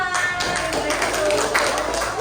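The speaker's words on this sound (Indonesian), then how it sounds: "Tepuk tangan buat kelompok 5" Students in a fifth-grade math classroom clap for a group, a steady patter of many hands close by, with voices mingling under the clapping.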